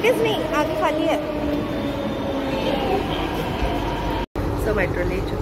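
A Delhi metro train runs with a steady rumble and rising and falling electric motor whine, with brief squeals over the rails, heard from inside the carriage.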